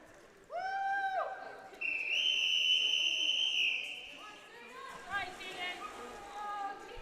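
A long, loud whistle blast starts a 100-yard backstroke heat at a high school swim meet between Evanston and Lyman, heard over echoing natatorium crowd noise, with a shorter tone just before it.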